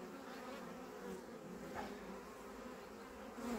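Bees buzz steadily around rural beehives, a continuous close insect drone that holds even throughout, swelling slightly near the end, with no voices.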